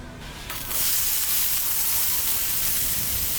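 Chopped onions for a ground-beef chopped cheese sandwich hit a hot griddle and burst into a loud, continuous sizzle that holds steady after a brief quiet start.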